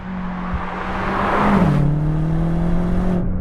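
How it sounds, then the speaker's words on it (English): A 2021 BMW M5 CS engine revs up loudly and steadily, its pitch climbing with a throttle blip and then holding a sustained drone, close by with no talking. "it's the engine that I like most about this M5 CS"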